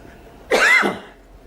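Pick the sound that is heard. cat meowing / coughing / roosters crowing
coughing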